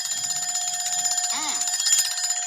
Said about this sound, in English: The bell starts ringing and the ringing sound can be heard from outside the bell jar.